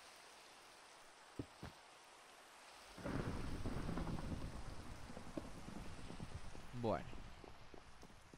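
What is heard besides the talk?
rain in a video game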